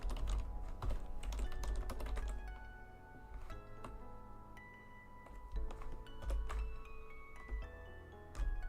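Rapid clattering keystrokes on a computer keyboard while coding HTML and CSS, steady bursts of clicks with brief pauses, close and fairly loud, no talking.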